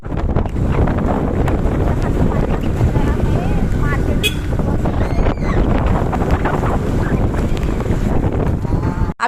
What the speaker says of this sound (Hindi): यहाँ पर देखिए कितनी तेज़ तूफान और तेज़ हवाएं चल रही